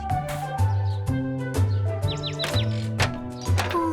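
A cartoon bird in a children's story chirps back at its nest atop a toy brick tower, giving a bright, rhythmic series of tweets over a bouncy musical backing with regular beats.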